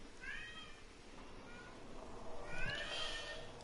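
A cat meows twice, a drawn-out call near the start and a louder, longer one toward the end, over steady low background noise.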